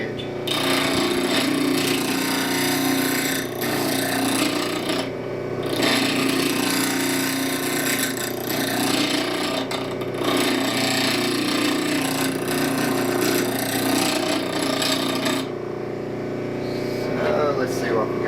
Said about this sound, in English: So I'll grind heavy on what will be my left side now, trying to square up that edge.